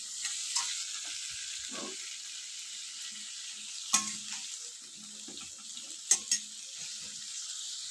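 Cauliflower and potato pieces frying in oil in a kadai make a soft continuous sizzle, broken by a few sharp clinks and scrapes of a spatula against the pan.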